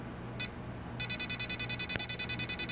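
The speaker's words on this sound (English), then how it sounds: "It's now beeping because the voltage is at a stock voltage" A Radiolink T8FB radio controller beeps a low-voltage warning, a fast regular series of short, shrill electronic beeps, close and fairly loud, after a single early beep.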